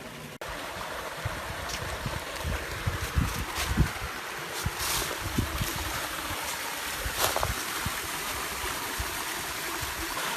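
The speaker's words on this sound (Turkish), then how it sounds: "Bu şelale daha önceden çok daha böyle gür akıyormuş." Steady rushing water from a waterfall in Şile, Turkey, a broad continuous roar of falling, flowing water with no voices, close and fairly loud throughout.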